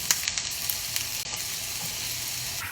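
Chopped onions and squash hit hot oil in a pan and crackle into a bright, close sizzle, with a few sharp pops at the start settling into a steady hiss.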